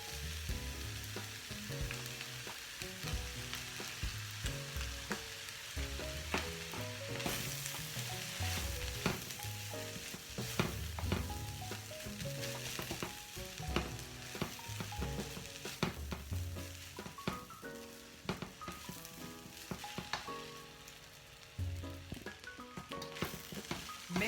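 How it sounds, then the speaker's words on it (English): Couscous and mixed vegetables stir-frying over high heat, a continuous faint sizzle under frequent scraping and clattering stirs that runs unbroken throughout, with no talking. "this is like a stir fry, or like a fried rice, but it's couscous"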